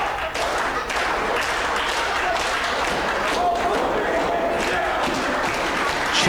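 A wrestling show crowd applauds and cheers in a steady, dense wash of clapping that holds evenly throughout.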